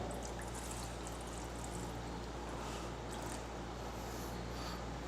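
Water poured into a container on a scale while being weighed for bread dough, a steady continuous splashing pour lasting throughout, close and fairly loud with no talking.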